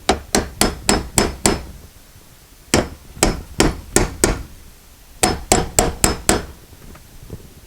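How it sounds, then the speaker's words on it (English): Sharp metallic hammer taps on a fuel sender part of a 2008 Hyundai Santa Fe, in three quick bursts of about five or six strikes each, evenly paced, close and clear with quiet pauses between. "remember what I said about the hammer. You can tap on it very lightly."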